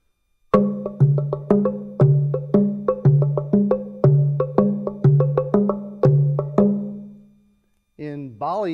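Two wooden log drums are struck together in an even, repeating rhythm of about a dozen hollow, ringing strokes, close and loud. A voice follows briefly after the drumming stops.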